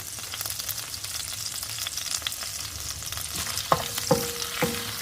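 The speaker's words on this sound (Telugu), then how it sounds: "హై ఫ్లేమ్ పైననే నేను అన్నీ ఫ్రై చేసుకుంటున్నాను అలానే బీన్స్ ఫస్ట్ ఫ్రై చేస్తున్నాను" Beans frying on a high flame sizzle steadily and close, and a metal spatula makes several sharp scraping strokes and clinks against the pan toward the end.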